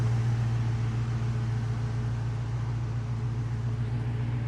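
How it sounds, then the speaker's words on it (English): Dual electric radiator cooling fans on a 1982 Chevy K10 square-body 4x4 short bed pickup run steadily with a constant low hum and broadband whoosh, loud and unbroken throughout with no talk. "Hear those fans kicking on automatically when it gets up to temperature."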